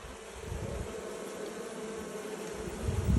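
Honey bees buzz during a hive mite check, a steady close drone of many insects with soft handling knocks swelling near the end.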